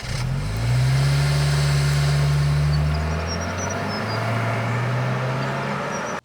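A 2023 Subaru Outback XT with a turbocharged engine launches hard, its engine note climbing steadily and loudly with a shift partway through, then continuing to pull with no talking.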